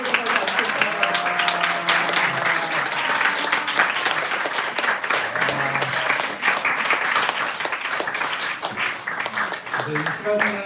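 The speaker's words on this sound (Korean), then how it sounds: "우리 다시 한번 박수 축하드리고" Congregation applause during a church anniversary thanksgiving service with a baptism ceremony, loud sustained clapping from a crowd mixed with tonal music and voices underneath.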